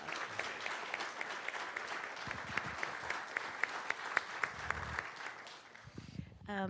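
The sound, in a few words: audience applause at county board meeting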